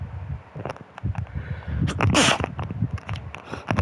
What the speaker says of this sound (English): Sorry, got sneeze.